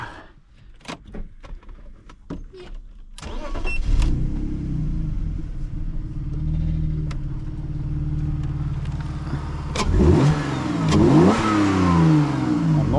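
A few clicks, then a BMW 325ti E46 engine cranks and starts into a deep idle, later revving hard through its exhaust with rising, rumbling bursts up close.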